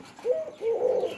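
Close, soft cooing of a pet dove kept in a village cage, two throaty coos in a row with a brief gap between them, no one talking.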